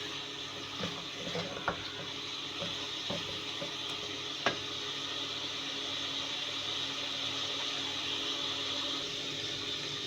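Minced meat cooking with half a cup of yogurt in a pan, a steady soft sizzle with occasional scraping clicks of a spoon stirring, quiet and close, no talking.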